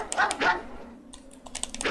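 A pet dog barks and yips near the microphone in a couple of short bursts, with faint keyboard-like tapping in the quieter middle stretch before another yelp.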